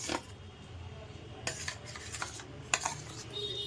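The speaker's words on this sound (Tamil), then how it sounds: "இப்போ வந்து வாழைப்பழம் இருக்கு இல்லையா, வாழைப்பழத்தை இதில் போட்டுக்கலாம்." Sliced bananas dropped into hot ghee in a metal pan, with a few sharp clinks and scrapes of a spoon against the pan over a faint background sizzle, close by and fairly quiet.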